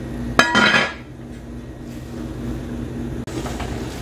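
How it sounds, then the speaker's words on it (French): A metal cooking pot lid clanks once against the rim as it is partly closed over a pot of eru with garri foufou, a brief bright clatter followed by quiet kitchen hiss and a faint later knock. "nous allons fermer légèrement la marmite et attendre que ça commence à bouillir"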